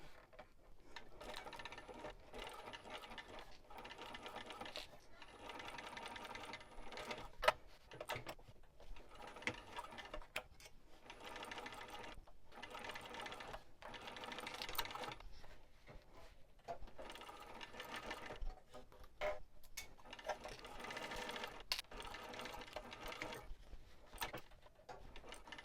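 A sewing machine back stitching a wristlet runs in short bursts, rattling mechanically with brief pauses between runs, quiet and steady.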